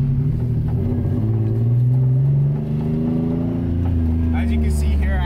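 A boosted Nissan 350Z engine drones and climbs in revs while driving, a loud steady rumble heard from inside the car with a brief dip midway and a rising pitch near the end.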